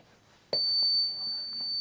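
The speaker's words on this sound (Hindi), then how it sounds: "छोटी सी हलचल हुई, तो उन्होंने सेंस कर लिया, और अलार्म बजने लगा" An earthquake sensor alarm sets off after a small jolt, a sudden steady high-pitched electronic tone that rings loudly and continuously, close by, with faint background sounds underneath.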